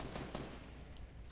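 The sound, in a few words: gunfire in a video game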